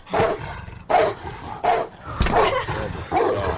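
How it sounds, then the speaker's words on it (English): A large dog barks in a horror film: several loud, deep barks in separate bursts, with a growl or roar between them, heard close and up front. "it's like the dog from Turner and Hooch"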